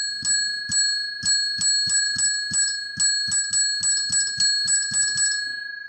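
A ring-for-service bell struck about fifteen times in a steady, fairly quick rhythm, each ding bright and close with a short ringing tail, no voices.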